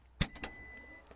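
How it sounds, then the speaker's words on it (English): A 2016 Volvo XC90's hands-free tailgate triggered by a kick, a sharp close thump followed by a second click and a faint electric motor hum as the hatch starts moving. "You just kick it like this, and then it opens and closes."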